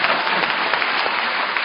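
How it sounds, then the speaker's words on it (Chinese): Audience at a Chinese crosstalk comedy performance breaking into dense, sustained applause, loud and even for the whole moment with no voices over it. "给您一个人的掌声"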